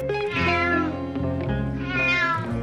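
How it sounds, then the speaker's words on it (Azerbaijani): A cat meows twice in a sad, drawn-out way beside a road, each call loud and close, with no talk over it. "bir də gördülər ki, bir pişik yol üstündə qəmli-qəmli oturub."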